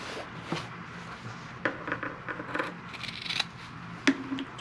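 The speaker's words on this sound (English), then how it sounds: "trim my corners here." Scissors snip through fabric while trimming the corners of a sewn clutch bag, giving a few close, crisp cuts spaced unevenly over a quiet room.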